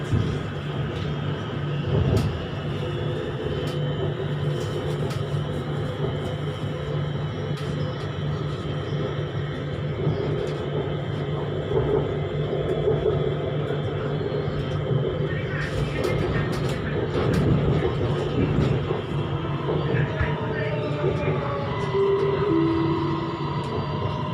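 A Bangkok MRT underground metro train runs steadily with a continuous low rumble and rattle, brief squeals near the end, and a recorded announcement voice heard over the noise, arriving at Tao Poon station.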